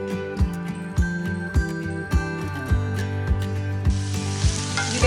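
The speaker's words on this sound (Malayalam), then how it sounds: "ഞാൻ ആദ്യം സവാള ഒന്ന് വഴറ്റിയെടുക്കുകയാണ്" Onions sautéing in a pan for Kerala-style fish biryani: a steady sizzle with sharp stirring clinks and scrapes roughly every half second, growing hissier near the end.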